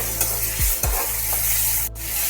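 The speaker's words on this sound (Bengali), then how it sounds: "হালকা করে ভেজে তুলে নিতে হবে চিংড়ি মাছ" Prawns fry briefly in hot mustard oil for a beetroot dish, a continuous sizzle with a couple of stirring knocks under background music.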